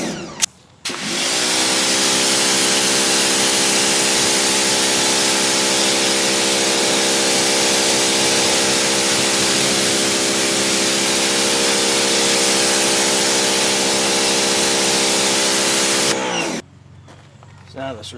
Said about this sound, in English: I've got a pressure washer. It's an AR BlueClean 1900 PSI electric pressure washer.